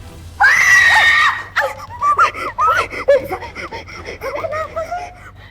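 A sudden high-pitched scream rings out loudly, then trails into breathy, shaky vocal sounds like gasps and nervous laughter.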